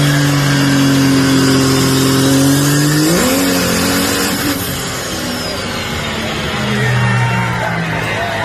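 A record-breaking 3,336-horsepower, 6.7-liter Cummins-based diesel truck engine revs hard on a dyno, a loud, sustained droning roar that climbs sharply in pitch partway through, then holds high and strained.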